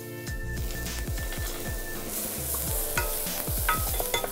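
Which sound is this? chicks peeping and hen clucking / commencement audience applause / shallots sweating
shallots sweating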